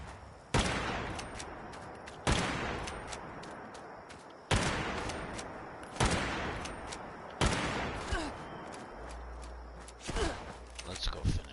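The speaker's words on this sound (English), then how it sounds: "Are you shooting me with a shotgun from way back here?" Shotgun blasts in Fallout 76, about six loud booming shots spaced a couple of seconds apart, each trailing off into a long echoing tail, with faint game noises between them.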